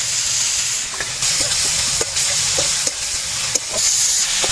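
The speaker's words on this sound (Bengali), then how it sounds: "মশলাটাকে আমি লাল লাল করে ভেজে নেব।" Onion and ginger paste frying with spices in a pan, giving a loud steady sizzle and hiss close by, with occasional soft stirring scrapes and clicks throughout.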